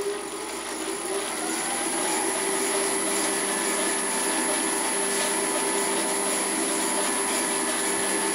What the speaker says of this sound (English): watch the pulley as I turn the speed up and then back down